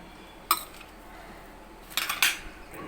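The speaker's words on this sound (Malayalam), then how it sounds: "ഞാനിപ്പോൾ ഇതിന് പഞ്ചസാരയാണ് ഇട്ട് കൊടുക്കുന്നത്" A spoon scoops sugar into a mango juice mixture with a few sharp metallic clinks against the container, one at first and then a quick cluster near the end, over a quiet kitchen background.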